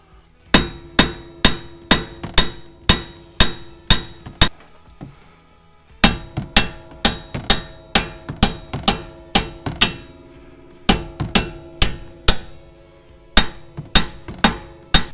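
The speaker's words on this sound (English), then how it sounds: "now we're going to go ahead and knock these bolts out, not all the way yet, but just to get past the spline" On a 2020 Mustang GT, a hammer knocks the steel strut bolts loose with sharp, ringing metallic blows struck in quick rhythmic bursts of about eight to ten hits, separated by short pauses, close and loud.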